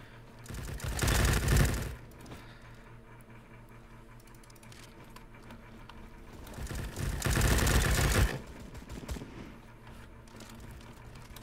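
Gunfire in the Roblox shooter Bad Business, two loud rapid bursts of automatic fire around the start and again later, separated by quieter game background noise.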